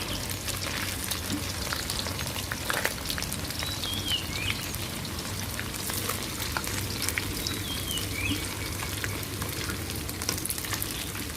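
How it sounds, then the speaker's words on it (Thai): Rice fries in a pan until crisp, a steady dense sizzle with bright crackling pops throughout, loud and close with no talk. "ทอดข้าวให้สุกกรอบดีเลยนะคะ"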